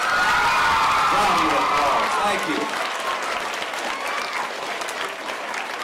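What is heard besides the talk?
elementary school children applauding teachers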